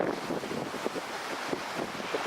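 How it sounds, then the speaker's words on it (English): Wind gusting across the beach at Perry Lake in Kansas, a steady broadband rush with soft buffeting against the microphone and faint lapping water beneath, continuous and fairly quiet with no voices. "but the Kansas wind has decided to show itself."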